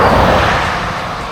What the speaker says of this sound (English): And a car going by.